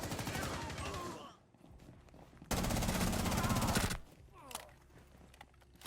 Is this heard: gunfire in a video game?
yes